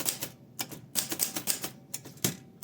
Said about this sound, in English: you can definitely type with it, as you see right here.